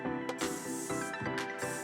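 A few quick hissing bursts from a spray bottle, repeated in a short rhythm, close and fairly quiet.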